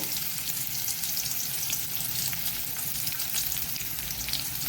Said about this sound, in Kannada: ನೀರುಳ್ಳಿಯನ್ನು ಹಾಕೊಳ್ಳೋಣ.